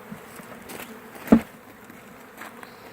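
Honey bees buzzing around a hive while a swarm is being hived: a faint, thin buzz of insects passing close by, with one sharp knock or thump near the middle.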